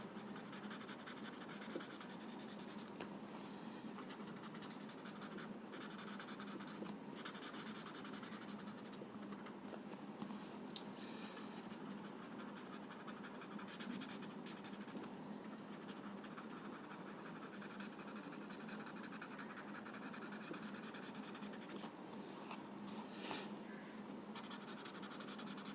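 A graphite pencil shading on paper while drawing a Zentangle pattern gives a faint, steady scratching that runs on and off in short strokes against quiet room tone.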